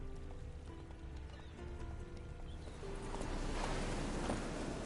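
Horse hooves clip-clop in a steady rhythm during horseback riding in The Witcher 3, faint and even, with the pace picking up slightly toward the end under soft ambient game sound.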